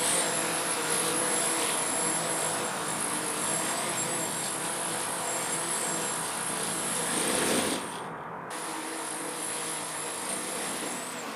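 Small RC model V-22 Osprey tiltrotor on a test flight, its electric rotors giving a steady, continuous buzzing whine with a slight dip in level toward the end.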